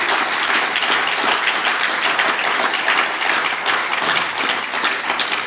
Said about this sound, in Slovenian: En močan aplavz za vse, lepo prosim